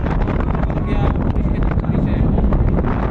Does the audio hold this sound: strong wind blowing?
yes